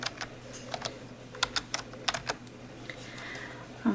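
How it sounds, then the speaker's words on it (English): Quick, irregular clicks of fingers typing on a computer keyboard to enter a search on a Windows 7 PC, crisp and close, with a steady low hum beneath and no talking. "Now type in updates again down here"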